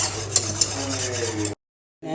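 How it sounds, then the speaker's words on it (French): A cook stirs thickening cream in a saucepan against its sides, a soft scraping swirl with a light sizzle and two sharp taps of the utensil, then a brief cut to silence before the stirring resumes. "on remue pour éviter que la crème qui va commencer à s'épaissir accroche au niveau des parois de la casserole"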